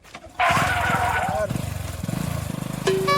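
A motorcycle engine putters close by with a steady chugging idle, rising briefly before settling, while a short beep sounds near the end.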